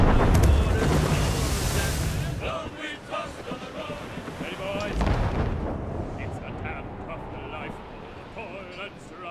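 Ship cannons firing in Assassin's Creed Rogue, heavy booming volleys with rumbling blasts over wind and ocean surf, while voices call out on deck.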